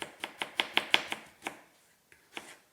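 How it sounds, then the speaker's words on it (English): A knife chops potato into very thin slices on a cutting board, about a dozen quick, sharp cuts in a steady run that pauses briefly, then two more cuts follow, close by and with no talking. "normally I know you have seen that I've been chopping very"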